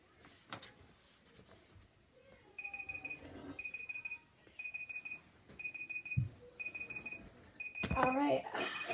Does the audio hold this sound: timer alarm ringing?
yes